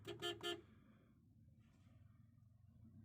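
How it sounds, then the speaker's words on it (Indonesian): Three quick car horn honks in a row on a road in Central Kalimantan, then quiet background noise with faint movement. "Klakson lagi ya"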